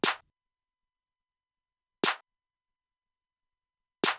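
Sparse percussion hits for a hip hop beat, claps layered with a snare set slightly off each other, strike every two seconds, each a sharp bright crack with a short tail, alone with no voices.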